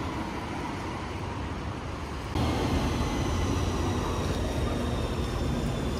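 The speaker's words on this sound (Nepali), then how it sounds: "हामी चाहिँ अब घर जानलाई मेट्रो कुदिरहेको." A metro train runs at Hetteroniemi station in Helsinki, giving a continuous, moderate rumble and rushing noise that grows a step louder partway through. No one speaks.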